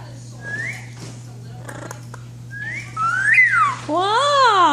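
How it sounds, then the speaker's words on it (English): Whistling of a short tune, rising slides and wavering notes close to the listener, with soft child-like vocal sounds mixed in and a steady low hum underneath. "You can complete the whistle!"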